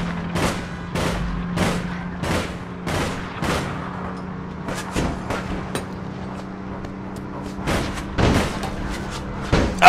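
Gunfire in APB Reloaded rings out as a rapid series of sharp, separate shots in irregular bursts over a low steady hum, fairly close and loud.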